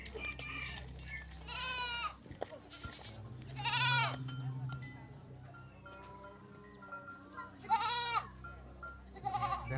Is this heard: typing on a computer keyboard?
no